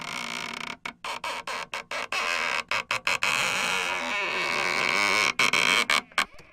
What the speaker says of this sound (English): So Noah opened the heavy door